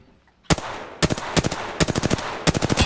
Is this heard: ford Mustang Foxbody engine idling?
no